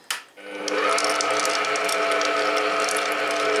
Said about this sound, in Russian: смотрите, как он будет перемешивать тесто для хлеба